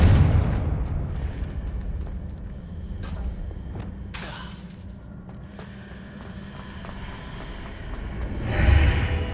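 A Confringo fire spell explodes in Hogwarts Legacy with a loud opening blast that decays into a rumbling tail, with a few sharp crackles, then a second deep boom swells near the end.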